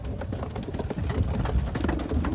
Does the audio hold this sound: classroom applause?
no